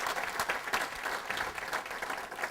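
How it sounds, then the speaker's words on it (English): Seminar audience applauding a speaker named Bill, a dense, steady burst of many hands clapping together, moderately loud and sustained through the whole stretch. "Bill deserves a big round of applause"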